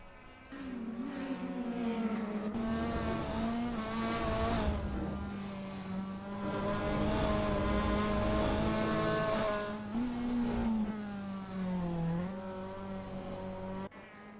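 A racing car in a GT sprint race at the Nürburgring in a video game, its engine droning loud and continuous, pitch rising and falling through gear changes and corners with no pauses.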